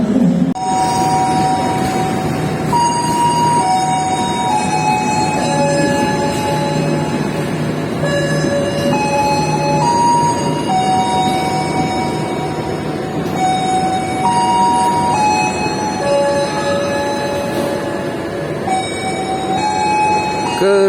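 The Jayabaya economy train from Jakarta pulls into an Indonesian railway station, loud and continuous, with sustained horn or bell tones ringing over heavy rumbling throughout.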